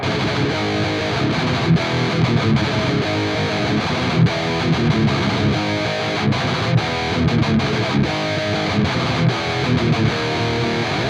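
A heavily distorted electric guitar, recorded with two microphones, plays a chugging rhythm part, dense and loud throughout, with short stops between chords.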